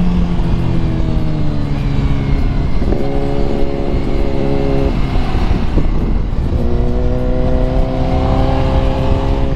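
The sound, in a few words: Ducati Multistrada V4S motorcycle accelerating on race track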